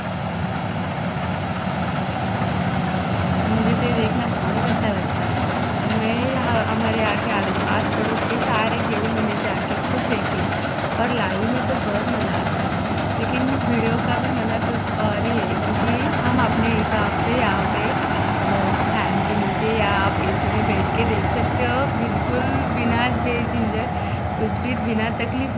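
A big combine harvester works through a wheat field with a loud, continuous engine drone and mechanical rumble, close by and steady throughout.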